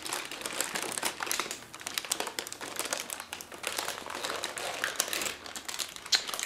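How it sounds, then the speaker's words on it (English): Parchment paper is peeled slowly off a freshly baked, still-warm sheet cake, giving a close, steady run of crinkling and crackling with small bursts as it pulls free. "peel back parchment paper."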